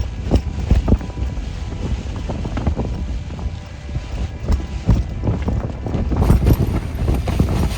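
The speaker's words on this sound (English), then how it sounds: "A lot of wind." Strong wind outdoors in Iceland, a constant loud rumble buffeting the microphone with repeated gusty thumps throughout, and no voices.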